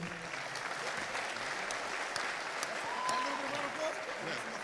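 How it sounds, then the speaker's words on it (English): Steady applause from a convention panel audience at DreamCon 2021, a dense wash of clapping that holds at an even level throughout without pausing. "give everybody on here a round of applause"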